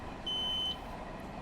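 A single steady electronic alerter tone from a LIRR M3 commuter train cab in a simulator game, sounding for about half a second over a low rumbling background.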